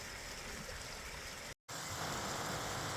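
A creek flows steadily along a hiking trail, a constant close rushing wash of water with a brief cut in the middle and no voices.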